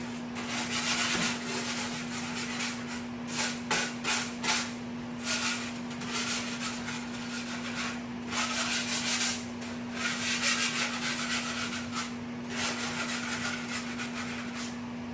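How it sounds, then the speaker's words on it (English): Grout is scraped at the bottom of a shower wall with a hand tool. Close, steady rasping strokes repeat over a constant low electrical hum. "At the bottom, I'm going to scrape here real quick too"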